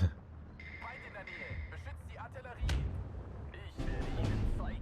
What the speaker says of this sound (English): Put down some mortar fire just to finish things off